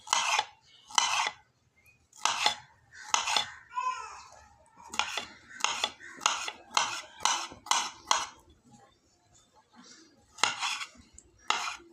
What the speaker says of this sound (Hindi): क्यूब्स में इनकी कटिंग कर लेंगे।